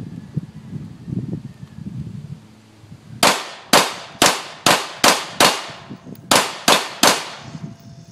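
Nine sharp pistol shots fired from a standing position, loud and close, spaced in a fairly even rhythm after a few seconds of quiet rustling.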